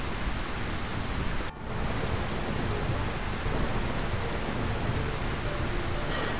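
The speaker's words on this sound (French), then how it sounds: "Cette pluie n'est-elle pas fantastique?" Steady, dense rain pours in the Final Fantasy IX video game, a loud continuous wash of noise broken by a brief dip, with no distinct thunderclap standing out.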